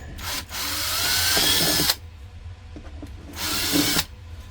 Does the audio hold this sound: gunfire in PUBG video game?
no